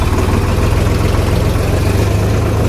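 A tractor engine idles nearby with a loud, steady low chugging pulse and rhythmic throb that holds unchanged throughout.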